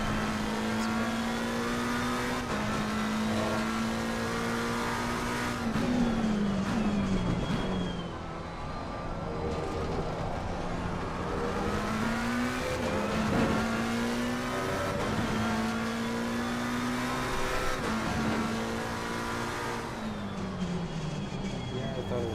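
A race car engine in Assetto Corsa Competizione, played in VR with a wheel, revs up and down repeatedly, with rising whines and quick drops between gear changes, loud and continuous throughout.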